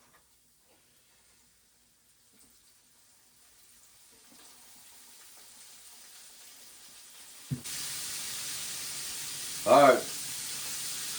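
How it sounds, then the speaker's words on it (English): Batter-coated Louisiana bullfrog legs drop into hot grease, setting off a sudden steady frying hiss that carries on close by, with a brief louder burst near the end and a short spoken word beforehand. "Pull them out and drop them in that grease."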